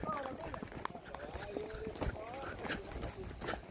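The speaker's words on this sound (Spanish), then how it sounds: "David, buen ritmo, le sacaste ya el caballito, ¿eh?" Horse hooves clip-clop in a steady rhythm during a ride across a farm, fairly faint and mixed with people talking and calling out over the ride, with music playing in the background.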